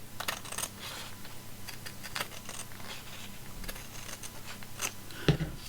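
Paper being trimmed with a paper trimmer at a craft table, a run of small close clicks and scraping taps, ending in a sharper snap, with no talking.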